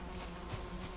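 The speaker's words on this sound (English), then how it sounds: "Bees." Bees buzzing in the Valheim video game, a faint, steady low hum continuing throughout one short moment.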